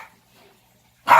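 A single sharp dog bark bursts in at the very end, loud and close, after near silence with faint room noise.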